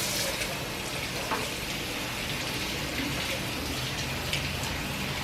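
Quinoa is rinsed in a strainer under running tap water, a steady close splashing gush that runs unbroken throughout, fairly loud, with no talking.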